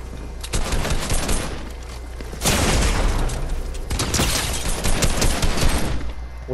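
Dense assault-rifle fire in a video game, continuous loud bursts of close shots, with heavier volleys around the middle and a steady barrage throughout.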